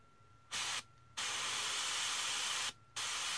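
An airbrush sprays a paint test onto the side surface in three loud, steady hissing bursts of compressed air, broken by two short pauses, with no talking.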